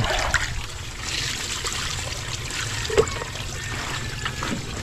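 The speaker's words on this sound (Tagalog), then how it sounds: "Bulaklak ng kalabasa. Hugasan natin." Running water trickles steadily over fresh squash blossoms as they are rinsed for a home-cooked meal, a continuous close splashing stream with one brief louder splatter partway through.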